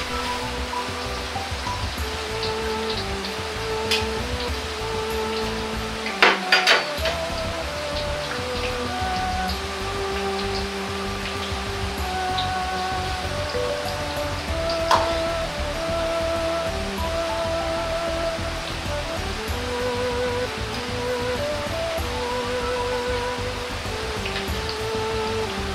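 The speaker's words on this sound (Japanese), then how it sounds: "ここから温度を上げてカラッとするように揚げていきます。" Chinese kaikoushou donuts deep-frying in hot oil, a steady dense crackling sizzle like rain, with a couple of brief sharp pops or clatters near the start.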